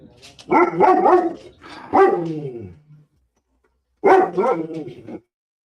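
Dog barking indoors, close and loud: two barks in quick succession, a pause, then one more bark.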